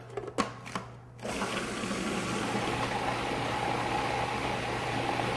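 A kitchen food processor starts up and runs steadily, chopping peeled onions and garlic for homemade kimchi, with a continuous motor whir and a low hum after a few brief clicks and handling noises.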